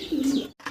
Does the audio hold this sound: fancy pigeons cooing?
yes